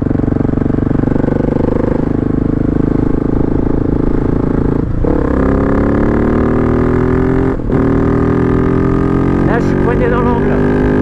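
A 2021 Husqvarna 701 Supermoto single-cylinder engine drones loudly on the road, its pitch rising steadily as it accelerates through gears, with a couple of short dips between shifts and someone talking over it.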